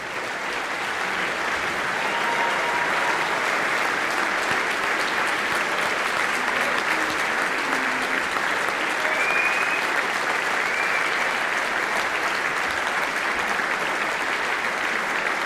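A large crowd at a student racing team's car rollout event claps loudly and continuously for team members on stage, a sustained, even wall of applause with faint cheers.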